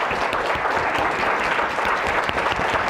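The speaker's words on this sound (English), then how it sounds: "Can you guys stand up and just clap for Sue Carter?" A standing audience at a neuroscience conference session claps together, a thick, even wash of many hands at full strength throughout, with no pause or fade.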